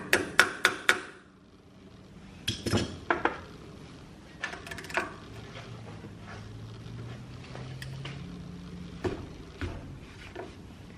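Flathead screwdriver working on stuck, Loctite-held screws of a stock RB25 oil pump, giving a few sharp metallic taps and knocks at the start and scattered clinks and scrapes later, close and fairly quiet.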